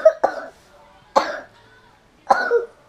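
A sick child gives three separate harsh coughs, close and loud, spaced roughly a second apart with quiet between them.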